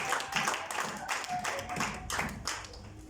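A church congregation claps in steady rhythm during a service, a run of even handclaps at a brisk beat, moderately near and filling the room.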